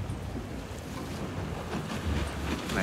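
A boat with a 50-horsepower Mitsubishi engine runs on open water during a Tet parade in Phong Dien, a steady broad rush of engine, water and wind noise buffeting the microphone, with no voices.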